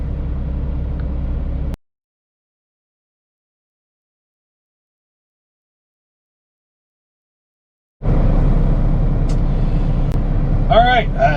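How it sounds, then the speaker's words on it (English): A truck returning to its yard rumbles with a steady engine drone, cuts to silence for several seconds, then the engine noise returns with brief squeaky hiss-like sounds near the end. "made it back to the yard, just parked the truck"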